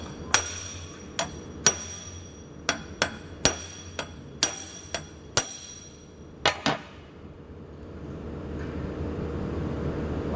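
Sharp metallic hammer strikes on metal held in vice grips ring out about a dozen times at an irregular pace, close and loud, then stop, leaving a low steady hum.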